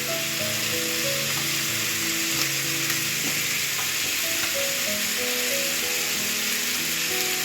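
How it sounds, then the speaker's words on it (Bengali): Chicken frying in a pan with chopped capsicum being added, a loud, continuous sizzle with stirring scrapes and faint tonal hum underneath, steady and close with no talking. "এবার দেখো এর মধ্যে দেব হচ্ছে ক্যাপসিকাম কুচোগুলো।"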